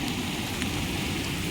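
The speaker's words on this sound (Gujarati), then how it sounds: "આ સવારનો 5:30 વાગ્યાનો વરસાદ ચાલુ છે" Early-morning rain pours steadily on a village in Bhanvad, making a dense, even hiss of drops on the ground and surfaces, with no talking.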